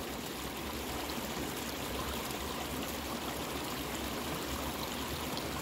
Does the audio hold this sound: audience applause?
no